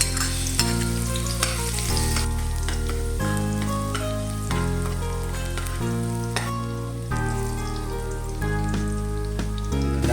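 Garlic frying in hot cooking oil for a chicken and bitter gourd dish, a steady sizzle running beneath louder tonal music for the whole stretch.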